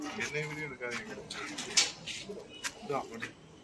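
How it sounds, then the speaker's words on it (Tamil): Domestic racing pigeons coo at night in a loft in Vellore, with repeated soft, throaty calls and brief clattering near at hand, while people talk over them. "புறா விட்டுட்டாங்க, பார்க்கலாம்."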